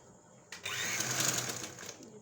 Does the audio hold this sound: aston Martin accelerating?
no